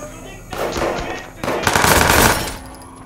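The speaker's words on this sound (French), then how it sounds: "dis-moi que c'était pas des coups de feu" Two loud bursts of rapid automatic gunfire in the video game Watch Dogs 2, close and harsh, separated by a brief pause.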